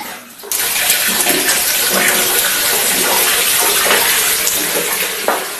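A water tap is turned on and runs in a loud, steady rushing stream, close and continuous after a brief quiet start.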